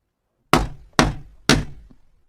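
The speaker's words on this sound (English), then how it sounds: "Finally, he knocked on the shop door." Three firm knocks on a shop door, evenly spaced about half a second apart, each a sharp close thud with a short decay, heard alone in otherwise quiet surroundings.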